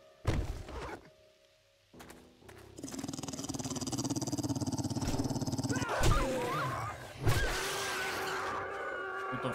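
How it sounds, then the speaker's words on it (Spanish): Dogs growling and snarling in the survival video game 7 Days To Die, a close, continuous rough growl with sharp bursts and thumps over game ambience. "Putos perros de mierda."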